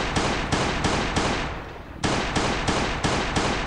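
Rapid gunshots from the zombie survival video game Last Day On Earth, about nine sharp, loud reports in a steady rhythm, broken by one brief pause before the firing resumes.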